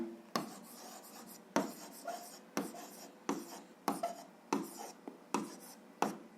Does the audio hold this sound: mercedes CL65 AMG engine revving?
no